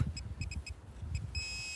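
Metal detector searching a field for coins and relics, giving a quick series of short electronic beeps followed by a longer sustained tone, heard close over faint outdoor rumble.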